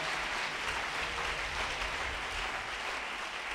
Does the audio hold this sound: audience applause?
yes